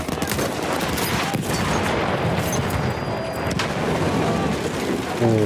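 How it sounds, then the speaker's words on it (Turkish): An enemy machine gun fires amid a Battlefield 1 battle as dense, continuous crackling gunfire over a loud rumbling battlefield din, with no clear talking. "Düşman makinalı tüfeği."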